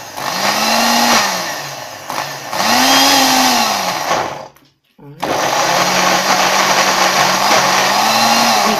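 A kitchen blender or juicer whirring below top speed, rising and falling in bursts with a short stop before running steadily again, loud and close, with talking over it.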